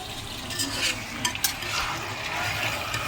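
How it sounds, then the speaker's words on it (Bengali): Chicken curry sautés in a pan with a steady, close sizzle while a spoon stirs and scrapes through it, with a couple of sharper clinks midway. "ভালো করে নাড়িয়ে নিয়েছি এরকম করে আর কিছুক্ষণ আমি কষিয়ে নেবো"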